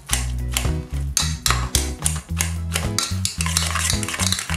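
Boiled potatoes are mashed with butter, salt and red chili flakes in a pot, giving repeated close scraping and thudding strokes of a utensil against metal in an uneven rhythm.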